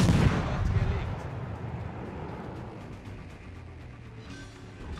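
Naval gunfire in World of Warships booms at the very start, then fades into a rumbling decay over ongoing game ambience, with no talk heard.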